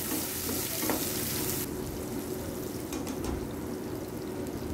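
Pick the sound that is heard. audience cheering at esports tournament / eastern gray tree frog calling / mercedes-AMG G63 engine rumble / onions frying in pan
onions frying in pan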